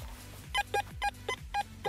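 Teknetics T2 metal detector beeping in tone mode over a buried coin, a rhythmic series of short electronic tones repeating about every quarter to half second, close and clear.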